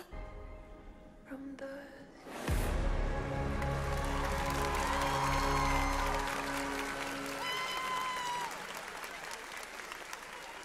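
Loud applause and cheering from a large convention audience at a cosplay show, swelling suddenly after a brief pause and holding steady for several seconds before easing slightly, with scattered voices and music underneath.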